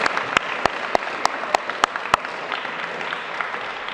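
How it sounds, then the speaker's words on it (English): Students applaud their principal at a school event, a steady wash of clapping with several sharp, louder claps standing out near the front, continuing evenly throughout. "let's give a round of applause to your principal"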